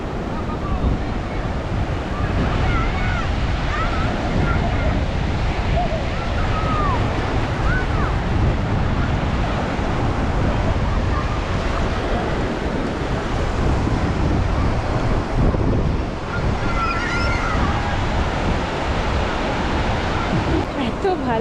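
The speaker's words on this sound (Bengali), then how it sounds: "সমুদ্রের একটা শান্ত স্নিগ্ধ হাওয়া" Steady roar of surf and gusting wind buffeting the microphone on the beach at Mandarmani, continuous and fairly loud, with faint scattered bird calls over it.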